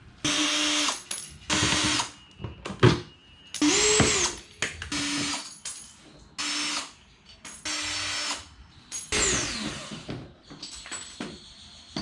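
Power drill driving screws into a ZL1 Addons front splitter on a Chrysler 300, several separate whirring bursts of one to two seconds each with short pauses between, close and loud.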